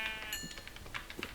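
Sheep bleat in Minecraft while being hit, several short, close bleats over a second and a half mixed with quick dull thumps from the blows.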